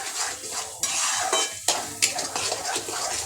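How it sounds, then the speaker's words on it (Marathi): Raw green masala being sautéed in oil in a pan for a fish curry, with a steady sizzle and sharp metal scrapes and knocks of the spoon against the pan, loud and close, and no talking. "मसाला टाकून चांगलं याला परतून घ्यायचं"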